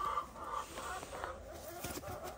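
A hen clucks while held in one arm for treatment, giving several close, short, fussy clucks and squawks in an uneven rhythm against a faint background.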